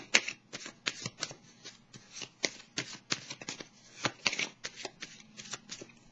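Tarot cards being shuffled by hand in a quiet room, a rapid series of close, crisp riffling and slapping bursts in irregular rhythm with no talk.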